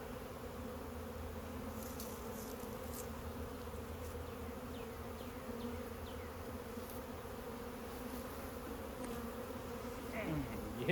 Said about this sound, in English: this is what the inside of the beehive looks like